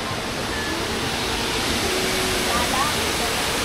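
The Hinulugang Taktak waterfall in Antipolo roars as a loud, steady broadband rush that fills the whole moment without a break.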